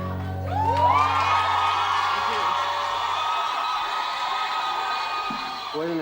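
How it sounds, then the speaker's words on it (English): A crowd at a live show in Bethulie cheers and whoops loudly and continuously, with sustained shouting that swells after a musical note fades, sounding close and dense. "I wasn't expecting a response like that from the crowd."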